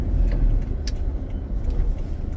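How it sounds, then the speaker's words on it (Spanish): A car passing on a rural road near Finca La Leona in Santiago de María, El Salvador, a steady low engine and tire rumble that stays loud and close throughout the short stretch. "Viene carro, viene carro."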